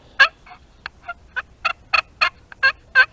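A turkey pot call, or slate call, scratched out in a series of about ten short, sharp yelps and clucks in an uneven rhythm, loud and close with no speech.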